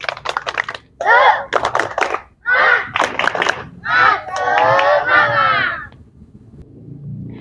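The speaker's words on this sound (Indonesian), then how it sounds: "coba tepuk semangat dulu semuanya" A class of children performs a rhythmic spirit clap chant during a physical education lesson, bursts of rapid clapping alternating with loud, unison shouted calls, close and energetic, trailing into quiet.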